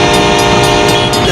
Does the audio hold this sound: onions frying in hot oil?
no